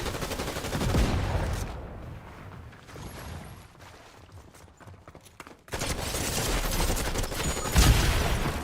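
Gunfire from a pistol and a grenade launcher in the Fortnite video game: dense bursts of shots and blasts, loud at the start and again near the end, with a quieter stretch of scattered shots between.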